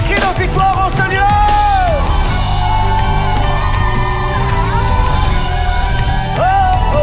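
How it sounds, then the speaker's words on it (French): A church congregation at a live prayer service raises loud cries and shouts of victory to the Lord, a dense, sustained roar of many voices with whoops and yells rising over it throughout. "Des cris de victoire au Seigneur."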